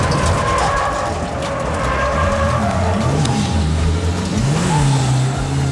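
A revived race car accelerating hard on a track, its engine revving loudly and continuously up through the gears, close and dominant throughout.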